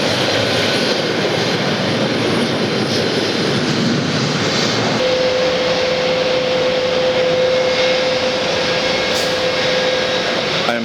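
An airliner's engines roar loud and steady at Atlanta airport near runway 9 right, a broad continuous drone with a sustained tone joining halfway through.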